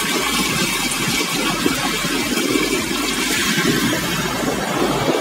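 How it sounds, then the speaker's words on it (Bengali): Sea waves at Cox's Bazar beach give a steady, dense roar of surf and rushing water, loud and continuous throughout, with no voices. "একটা ঢেউ যাবে তো আরেকটা ঢেউ,"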